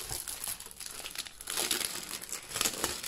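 A sturdy, machine-washable, sewable paper-like craft material that resembles cardstock or watercolor paper crinkles and crackles continuously as it is handled up close, with no talking.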